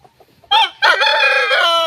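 A naked neck rooster on a backyard farm crows loudly and close, one long harmonic call after a brief lead-in note, heard alone.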